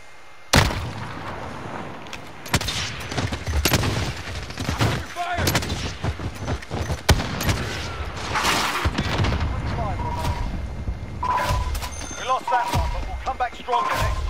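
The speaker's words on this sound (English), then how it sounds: "I'm under fire!" Gunshots and bursts of automatic fire in a Call of Duty: Modern Warfare duos match, sharp loud cracks scattered irregularly with booming impacts, while a player talks over the shooting.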